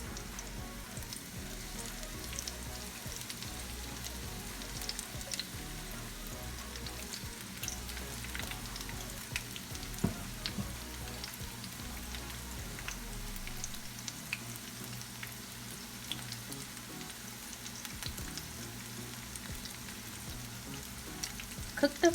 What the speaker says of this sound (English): Cook the fritter until they're brown.